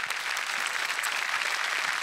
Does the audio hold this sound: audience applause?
yes